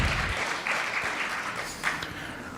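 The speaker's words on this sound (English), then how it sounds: "give these guys a round of applause. Keep it going." An audience at a campus speaker-series event applauds steadily, a dense wash of many hands clapping at moderate volume for the whole stretch, with no voices over it.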